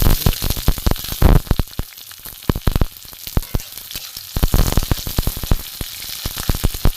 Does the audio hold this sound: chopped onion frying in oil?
yes